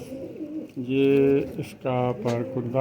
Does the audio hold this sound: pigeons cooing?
yes